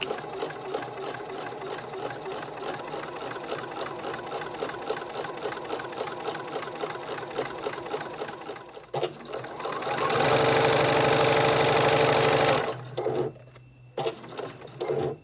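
Swim fabric being back stitched on a sewing machine: a steady, close mechanical whir of rapid needle strokes that briefly stops, then runs faster and louder in a sustained burst before cutting out, with short starts near the end.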